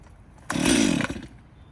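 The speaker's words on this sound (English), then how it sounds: "So to start the chainsaw, what you want to do is just give it one pull, and then you want to choke it once." A chainsaw is pull-started with the choke on for felling a big tree, giving one short burst of a rough, sputtering engine that catches loud and close for about half a second before dying away.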